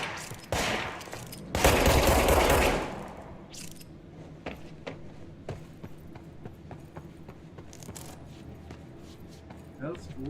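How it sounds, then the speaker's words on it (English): Gunfire in the video game Control, a loud burst of shots early on followed by scattered fainter impacts and clatter over a low rumbling game background. "Somebody's shooting."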